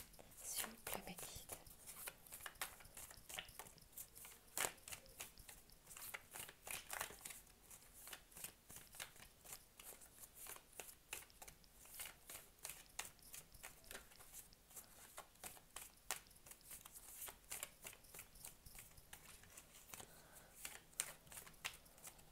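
Tarot cards being shuffled and drawn in a French-language reading, a steady run of soft papery flicks and riffles, close and fairly quiet, continuing throughout without speech.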